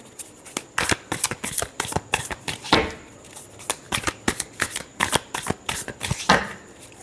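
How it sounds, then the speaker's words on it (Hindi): Tarot cards being shuffled by hand, a rapid run of crisp riffling flicks and soft slaps in irregular bursts, close and clear with no talk. "Last shuffle."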